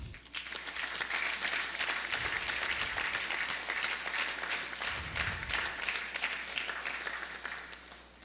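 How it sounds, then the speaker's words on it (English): An audience at a spiritual retreat gathering breaks into sustained applause, dense and steady clapping from many hands filling the room for several seconds before tapering slightly. "So big round of applause for all of you"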